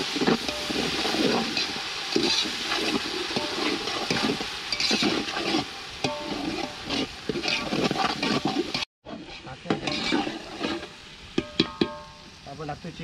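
Water splashes and pours into a chicken biryani pot cooking outdoors in a forest picnic setting, a steady wet rush with a brief break near the end, under people talking.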